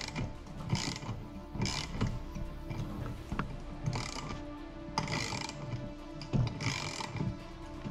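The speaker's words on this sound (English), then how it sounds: "obviously you're going to need a socket wrench" A socket wrench ratchets a lock nut tight during a Motorguide XI3 trolling motor install on a NuCanoe Unlimited kayak, giving repeated rapid clicking strokes in bursts about once a second, close and fairly quiet, with no talk.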